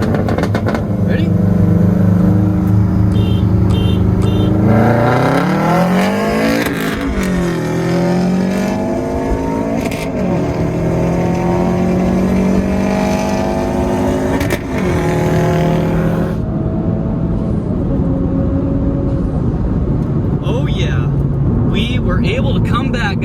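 Revving car engine in a Honda Civic Type R racing a tuned Subaru WRX, climbing steadily through second and third gear toward about 6,000 RPM. The loud, sustained acceleration has clear upshifts, with a voice talking over it.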